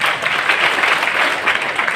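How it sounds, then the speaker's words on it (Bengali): Audience applause at an indoor business meeting in a party centre, a steady wash of many hands clapping together at moderate distance throughout. "তোর একটা হাততালি দেন"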